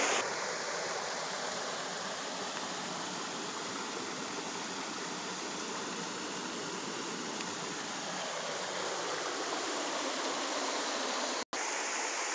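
A brook waterfall in the North Maine Woods pours steadily, a dense broadband rush of water running unbroken and fairly close, with no voices.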